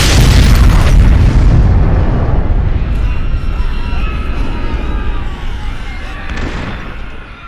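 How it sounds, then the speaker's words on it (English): Charges ignited in the Fallout video game go off in a huge booming explosion, loud at once and slowly rumbling away over several seconds with debris crackle. "Big explosion, and we're kind of stuck in the corner there."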